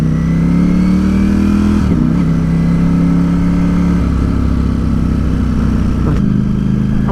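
A 2020 Ducati Streetfighter V4 S motorcycle rides through town, its engine droning steadily and loudly up close with a few brief gear changes and shifting revs.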